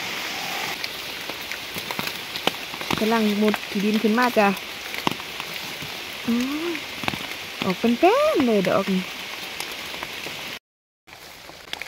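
Steady rain patters outdoors during mushroom picking in a forest, forming a constant close hiss beneath someone talking, with frog or toad calls and brief knocks.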